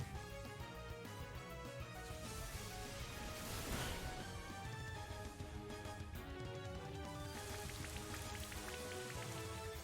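Steady rain falls from the Rain Dance move in Pokemon Brilliant Diamond, a dense, continuous patter layered over game music, loud and unbroken throughout with no talking.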